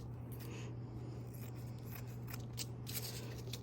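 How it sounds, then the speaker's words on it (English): Scissors cutting plaster strips for masks, a quick series of crisp snips close by over a low steady hum, with no talking. "if you want nice straight strips, you're going to want to use scissors"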